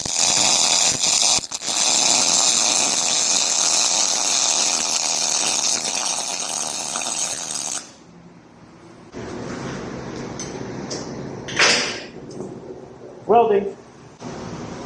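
A MIG welder lays a bead on 3/8-inch steel set to voltage 5 and wire speed 55, giving a loud, steady crackling buzz for about eight seconds. It stops abruptly, and quieter clanks and shop noise follow.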